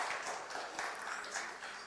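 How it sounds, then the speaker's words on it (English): An audience at an industrial entrepreneur week event gives the panelists a round of applause, a faint, even patter of many hands clapping heard from a distance. "can we please give my esteemed panelists a round of applause?"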